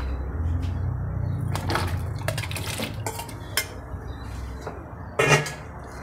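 Boiled water chestnuts tipped into a pot for a dried-longan and ginkgo sweet soup, giving a busy run of metal clatter, utensil scrapes and clinks, with a louder knock near the end.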